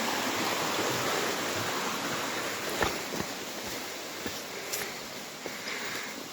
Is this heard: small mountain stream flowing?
yes